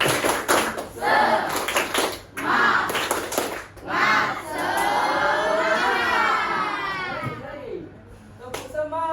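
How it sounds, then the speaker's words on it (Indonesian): A classroom of standing students performs a rhythmic clapping chant, sharp bursts of hand claps alternating with children's chanting voices, loud and close, in a lively call-and-response pattern. "Tepuk semangat."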